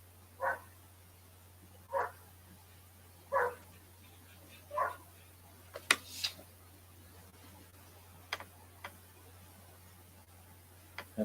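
A dog barks outdoors near an auto repair shop, single barks spaced about every one and a half seconds at a moderate distance. Sharp clicks and knocks follow later over a low steady hum.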